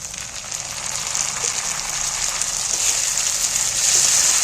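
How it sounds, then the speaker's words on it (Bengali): Chopped tomatoes fry with onions in a pan while preparing an egg and masoor dal dish, giving a continuous loud crackling sizzle that builds slightly over a few seconds. "আবারও আমি টমেটোগুলোকে ভেজে নেব একই সাথে পেঁয়াজগুলোর সাথেই ভেজে নেব"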